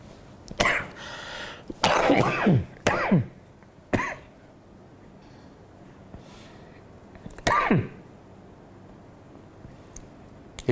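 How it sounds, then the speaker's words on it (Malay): A man coughs several times in short harsh bursts, spaced by quiet pauses, close to the microphone in a lecture setting. "Ini saya batuk."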